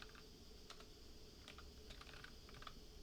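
Computer keyboard typing sounds as quiet, irregular key clicks in short bursts over a faint steady background.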